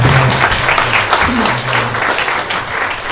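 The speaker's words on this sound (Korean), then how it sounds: "네, 우리 두 청년을 위해서 박수 한번 격려의 박수 한번 주세요." A church congregation gives a loud round of encouraging applause for two young people, close, dense clapping that runs steadily from start to finish with a low hum underneath.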